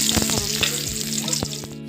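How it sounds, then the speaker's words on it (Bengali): Chopped onion, bay leaf, cinnamon, cloves and cardamom sizzle loudly in hot oil, giving a dense, continuous crackle with sharp pops scattered through it. No voices are heard. "এবার কি ফোড়ন দিচ্ছে দেখো, পেঁয়াজ কুচি, তেজপাতা, দারচিনি, লবঙ্গ, এলাচ।"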